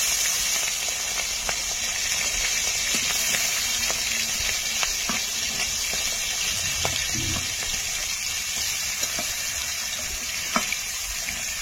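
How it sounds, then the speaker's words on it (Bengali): Prawns frying in hot oil in a kadai (wok), a continuous even hiss with occasional faint clicks and pops, steady and fairly loud, with no voices. "তেল গরম হয়ে গেছে, মাছগুলো দিয়ে দেব।"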